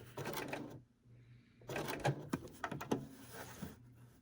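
A sewing machine working a blanket stitch for appliqué, short bursts of close mechanical whirring and clicking separated by a quiet pause while the fabric is turned.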